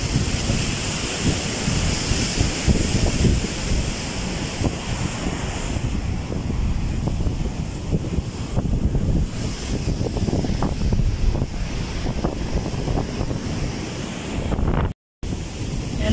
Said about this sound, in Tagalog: Galit na galit yung alon doon sa laot.